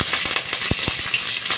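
Mustard seeds, curry leaves and garlic fry in hot oil for a bottle gourd sambar, giving a dense close sizzle broken by quick sharp crackles and pops.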